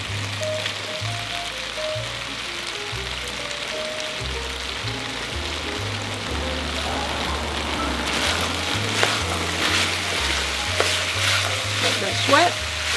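Onion and radish fry in a pan for black bean noodles, a loud steady sizzle with scraping stirring strokes that grow busier toward the end, and a low hum running underneath.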